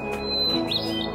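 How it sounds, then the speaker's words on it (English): A single bird gives a brief upward chirp in a forest over a steady low background hum, near and fairly clear. "Listen to the birds."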